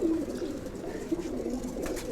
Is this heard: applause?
no